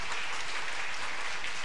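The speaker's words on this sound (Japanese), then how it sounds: "今一度盛大な拍手をお願いいたします。" An audience at a homeopathy congress applauds the speakers, dense continuous clapping filling the hall, loud and steady with no talk over it.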